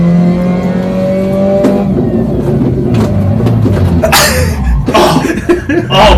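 A car engine revs during a driving lesson, a steady drone climbing and dipping around a gear change, followed by louder bursts and rough noise near the end.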